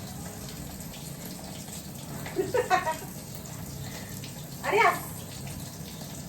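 A water tap gushes in two short bursts as it is turned on and off, fairly close, with a brief spoken exclamation and a low background hum.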